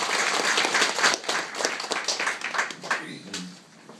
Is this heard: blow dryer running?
no